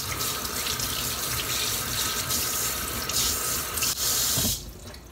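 Tap water runs loudly into a kitchen sink while burdock root is rinsed, a steady close rush that shifts briefly and then eases off at the end.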